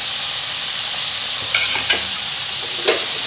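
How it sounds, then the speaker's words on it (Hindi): Paneer fries in a kadai with a steady, even sizzle close up, broken by a few soft clinks and stirring scrapes. "पनीर को भी हम हल्का सा फ्राई कर लेते हैं।"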